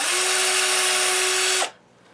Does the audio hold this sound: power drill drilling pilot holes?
yes